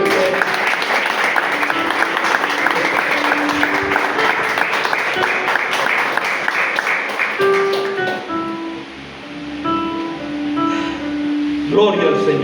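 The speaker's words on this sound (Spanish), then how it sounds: "Denle un fuerte aplauso al Señor." Church congregation applauding loudly in a sustained burst of clapping that fades after several seconds, followed by a speaking voice and faint musical tones underneath.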